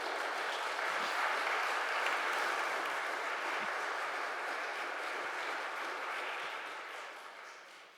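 A church congregation applauds at Sunday Mass after a homily, a dense sustained wash of clapping from many hands that holds steady and then fades slightly toward the end.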